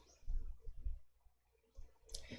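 A few soft computer mouse clicks in a quiet room, short faint taps spaced irregularly, with a brighter click near the end.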